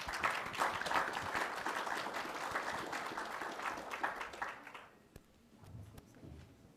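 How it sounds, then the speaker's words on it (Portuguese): An audience at a talk on autism in Campinas applauds, a dense wash of clapping lasting about five seconds before thinning out into a few scattered claps and quiet. "Uma salva de palmas para vocês."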